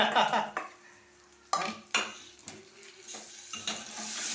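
A utensil stirs puntikura (gongura) curry in oil in a pan, scraping and clanking against the metal with several sharp knocks over a soft background sizzle.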